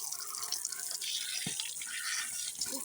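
Tap water runs steadily while things are washed under it at a sink, a close, continuous hiss with small splashes, no voices.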